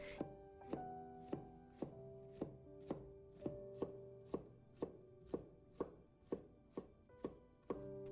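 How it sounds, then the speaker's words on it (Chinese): A knife chops cucumber into small dice on a cutting board, giving about fifteen sharp, evenly spaced knocks, close and clear in an otherwise quiet kitchen. "最后再切成小丁。"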